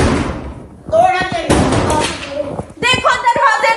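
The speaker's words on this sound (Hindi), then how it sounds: "देखो दरवाजे तोड़ रहे हैं।" Heavy slams and thuds from police forcing doors, a series of loud blows spread across a few seconds amid agitated shouting voices.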